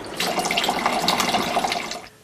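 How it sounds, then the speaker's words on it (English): Paper being rubbed between thumb and forefinger underwater in a bowl, heard as steady close splashing and sloshing water for about two seconds before it stops. "Rub the surface of the paper between thumb and forefinger under the water to help the paper become soggy."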